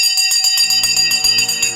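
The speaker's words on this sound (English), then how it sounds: "The bell has gone." A stock market opening bell sound effect rings in a rapid, bright metallic repeating clang, loud and close, continuing steadily without speech.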